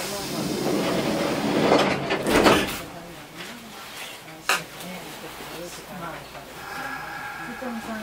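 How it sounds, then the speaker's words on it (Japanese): Doors of a Kintetsu 8810 series electric train, running between Yamato-Yagi and Yamato-Saidaiji, slide shut with a soft rush and a firm thud, amid steady cabin rumble while an announcement voice speaks. "扉が閉まります。 ご注意ください。"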